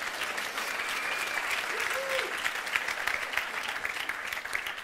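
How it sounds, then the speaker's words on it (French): An audience applauds a reader with sustained, dense clapping, steady and moderately loud throughout, with a faint voice briefly audible over it. "On l'applaudit, elle a lu ça bien."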